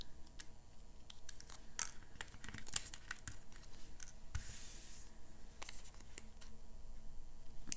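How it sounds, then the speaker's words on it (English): Scissors snip antennas off paper ladybug shapes made with a craft punch, a run of sharp close clicks and cuts at an irregular pace with no talking. "We're going to cut off the antennas."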